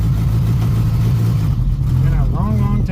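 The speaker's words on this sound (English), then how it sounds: "Now I've only driven it in my driveway, so this is the truck's first time on the pavement" A Toyota Hilux truck, newly made drivable after long restoration work, rolls on pavement with a steady low engine drone close by, and a voice speaks briefly over it near the end.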